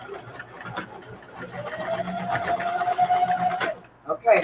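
A sewing machine stitches a patchwork duffle bag side in a steady whirring run that speeds and stops, heard close up with a person talking over it.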